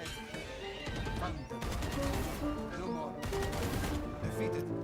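Rapid gunfire in Valorant as shots punch through walls, a dense sustained burst of loud cracks over a game soundtrack.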